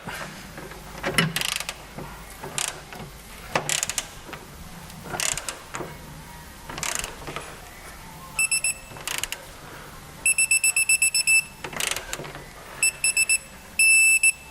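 Ratcheting clicks of a torque wrench tightening rear suspension on a Subaru Impreza repeat in bursts, then a high electronic beep sounds several times in short pulses near the end as set torque is reached.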